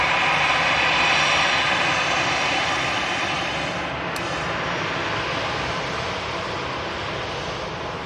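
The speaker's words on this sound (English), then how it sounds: "EasyJet's A320 just arriving in here" An EasyJet Airbus A320 jet arrives at Manchester Airport with a loud, steady, broad engine roar that holds throughout and slowly eases off, with no voices.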